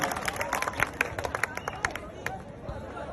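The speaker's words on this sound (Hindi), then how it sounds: "जोरदार तालियां बजा करके हर्ष ठकारा जी को आमंत्रित करता हूं।" An outdoor political gathering in Haryana where a crowd claps to welcome a speaker, giving scattered, uneven claps over a murmur of voices.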